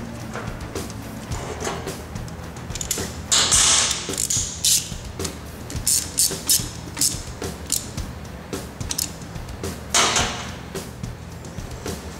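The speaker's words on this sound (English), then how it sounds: "just drop your bolt in and tighten it down" A bolt is tightened down on the shifter of a Honda ATC 185–200 three-wheeler in a shop, giving close mechanical creaks, ratcheting clicks and scraping metal sounds in irregular bursts.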